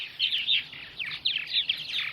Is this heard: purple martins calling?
yes